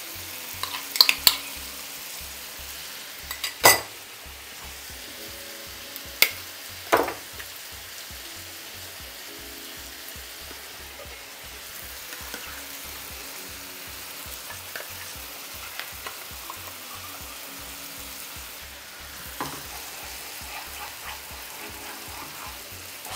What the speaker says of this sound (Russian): Все, теперь ее обжариваем, перемешиваем